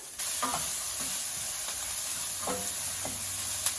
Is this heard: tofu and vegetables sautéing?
yes